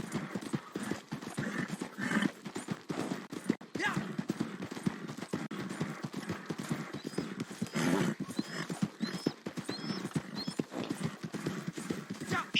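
Horse hooves clopping on a steep, treacherous path in a video game, a steady rapid rhythm of close, distinct hoofbeats running throughout with a faint whinny-like tone.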